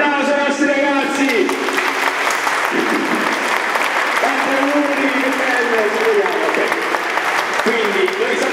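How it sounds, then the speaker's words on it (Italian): Sustained applause fills a church as a congregation claps for children after their First Communion Mass at the former Cathedral of Santo Stefano in Capri; dense, steady clapping runs throughout with a voice speaking over it. "facciamo un altro applauso ai nostri ragazzi!"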